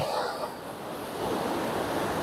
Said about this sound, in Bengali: এই পায়ারের কাছে ঢেউ অনেক বেশি।